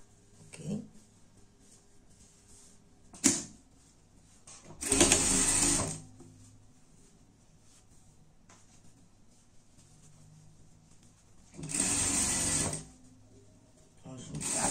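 A sewing machine stitches the armholes of a dress in short separate bursts, the louder runs lasting about a second, with quiet pauses between them; the sound is close and fairly soft.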